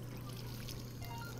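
Water poured from a sink in a cooking video game: a continuous, even trickling stream, fairly quiet and alone.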